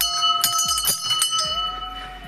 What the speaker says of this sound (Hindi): और ये घंटी मेरे आप सभी दोस्तों के नाम की।